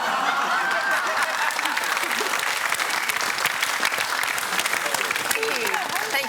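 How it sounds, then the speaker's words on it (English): A special birthday clap performed by a game show studio audience, a dense burst of clapping with scattered chuckles and cheers, loud and steady throughout with voices mixed in. "So it's a special occasional clap."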